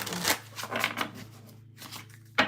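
A deck of tarot cards is riffled and shuffled close by in quick papery bursts, ending with a sharp snap of cards, while a low steady hum runs underneath.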